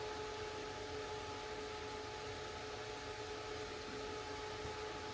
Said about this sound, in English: While that UV printer is kind of getting after it.